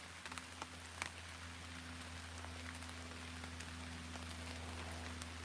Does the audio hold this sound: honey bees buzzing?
no